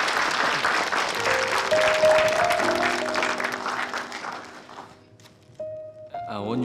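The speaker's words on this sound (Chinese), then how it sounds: "待会儿给我一点掌声好吗" A crowd in a drama scene gives a man a round of applause, thick and steady for about four seconds before it thins out. A soft tone and a voice follow once the clapping fades.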